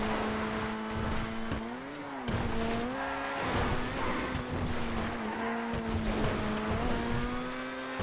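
A race car engine revs hard in GTA FiveM while chasing an Italy GTB Custom, the engine note rising and dropping through gear shifts as a continuous loud drone with brief tire squeal.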